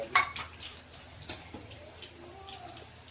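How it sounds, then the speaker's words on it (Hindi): Half-fried vegetables for a mixed-vegetable bhandara curry being lifted out of hot oil with a slotted ladle, giving light metallic clinks and scrapes of utensil against pan under a faint sizzle. "इनको भी हम गोभी के साथ वाले बर्तन में ही निकाल लेंगे।"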